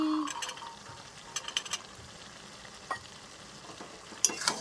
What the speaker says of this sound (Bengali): স্বাদের জন্য দিয়ে দিলাম অল্প মিষ্টি আর দিয়ে দিচ্ছি মটরশুঁটি